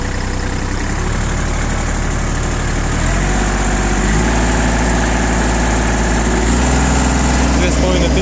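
A Kubota GL25 mini tractor engine idles steadily up close with a rough mechanical rumble, its tone shifting slightly, while someone talks over it.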